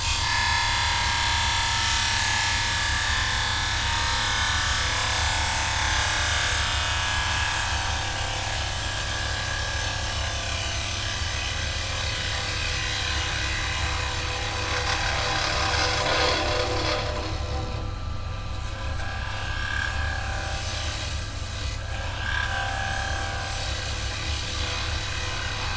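A woodturning tool cuts into wood on a spinning lathe, making a loud, continuous droning whir with a rough scraping edge throughout.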